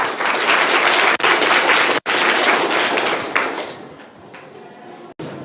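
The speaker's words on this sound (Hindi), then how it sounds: "जोरदार तालियां इनके लिए।" Schoolchildren in a Bihar government school classroom burst into loud, dense applause for a correct answer, the clapping sustained close by before thinning out toward the end.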